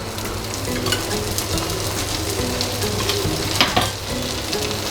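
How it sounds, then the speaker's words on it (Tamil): Adai batter sizzles and fries on a hot pan as oil is poured around it, a steady close crackle with occasional sharper spits and a low hum of the stove beneath. "அங்கங்கே எண்ணெய் ஊற்றிக்கிறணும்"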